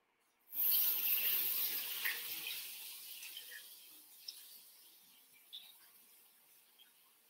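A kitchen tap gushes steadily over leek leaves fanned out for washing, the splashing full and close at first and then settling into a softer, uneven trickle with occasional drips.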